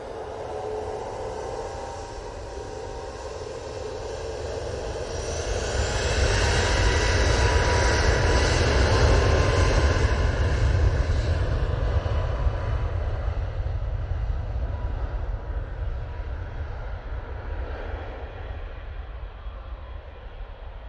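Ryanair plane departing Manchester Airport for Copenhagen, a loud jet engine roar that builds over several seconds, peaks with a rising whine, then slowly fades into a distant rumble.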